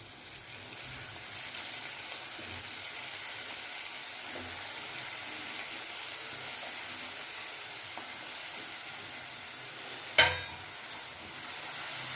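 Fenugreek leaves stirred in a pan while cooking, a soft continuous scraping and light sizzle, fairly quiet and close, with one sharp clink near the end.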